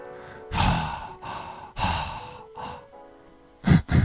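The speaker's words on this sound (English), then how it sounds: "I hear you breathing." Heavy, audible breaths from a day trader on a live stream: several long sighing exhales and inhales close to the microphone, with a sharper quick double breath near the end, and no talking.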